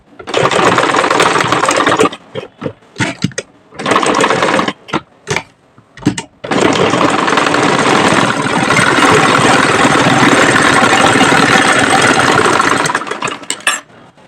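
Sewing machine stitching a chain zipper onto a sari blouse: loud, rapid mechanical whirring in short starts and stops, then a long continuous run before tapering off.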